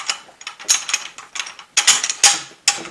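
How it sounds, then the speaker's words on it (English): The bolt assembly of a Norinco SKS rifle is handled and dropped into the receiver, giving a close, quick string of sharp metallic clicks and scrapes, with several brighter clacks near the end. "I'm going to grab the bolt assembly, the hanging bolt, and drop it down in there."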